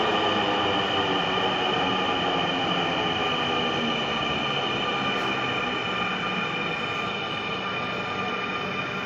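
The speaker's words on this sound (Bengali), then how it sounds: "মেট্রো দিয়ে আমরা উঠবো।" A Dhaka Metro rail train pulls into the station with a steady, loud rolling rumble and a sustained high whine, holding even throughout without talk.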